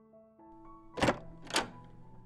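A bedroom door is opened with two dull wooden thumps about half a second apart, heard over soft background music.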